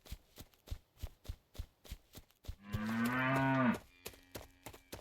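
A cow gives one long, loud moo lasting about a second, close by. Steady rhythmic knocking or shuffling sounds run before and after it.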